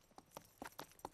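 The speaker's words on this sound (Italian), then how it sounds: "Ecco, sta arrivando il cavallo" A series of five hollow hoof clops, evenly spaced and fairly faint, like a horse walking slowly nearby.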